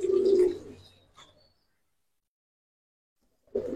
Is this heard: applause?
no